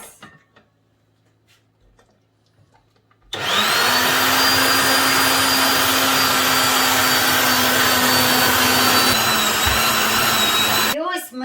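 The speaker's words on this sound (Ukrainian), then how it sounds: "включаємо м'ясорубочку і все це переробляємо на м'ясорубочку" Electric meat grinder mincing vegetables for adjika switches on after a few quiet seconds and runs as a loud, steady motor whine with grinding underneath, close by and continuous until it stops near the end.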